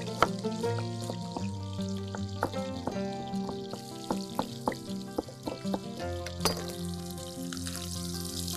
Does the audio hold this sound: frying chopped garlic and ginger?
yes